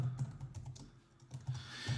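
Quiet typing on a computer keyboard that sits in an awkward spot, a light, uneven patter of keystrokes heard close by with no talking.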